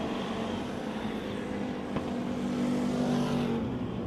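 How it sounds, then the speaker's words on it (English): Thunderstock race cars lapping at Ohsweken Speedway, a steady distant engine drone with one car's note rising and falling as it comes off a corner, with no talk. "your leader, Lee Winger, as he comes off of corner number 4 and will complete lap number 8"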